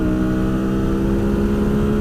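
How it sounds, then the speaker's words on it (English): A motorcycle engine held at high revs while riding fast on the road to Gettysburg, a loud, constant droning hum with steady harmonic tone and wind rumble throughout, close and without talk. "Just listen to that goddamn engine, man."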